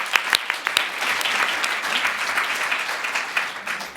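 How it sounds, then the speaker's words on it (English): Audience applause fills the room after a talk at a conference on young onset dementia, steady clapping from many hands lasting the whole stretch, fairly loud and close. "A round of applause again."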